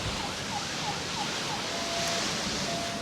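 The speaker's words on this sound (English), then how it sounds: "There's a police car coming past now." A police car siren passes by a seaside fishing spot at Colwyn Bay, heard as faint, distant wailing tones over steady loud wind and surf noise.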